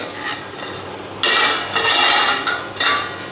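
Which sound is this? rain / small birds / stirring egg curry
stirring egg curry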